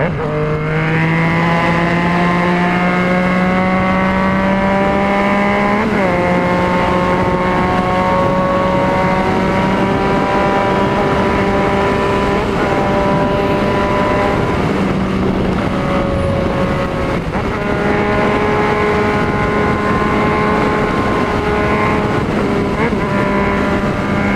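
A motorcycle engine revs hard and climbs through gears at speed, a loud, close, continuous whine that rises steadily and drops sharply at each shift, with wind buffeting underneath throughout.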